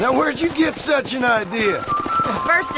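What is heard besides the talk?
No everyday noises stand out.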